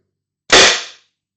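A Tippmann TIPX paintball marker with a 10-inch barrel dry-fires without ammo, giving one sharp, loud pneumatic pop that hisses away quickly into silence.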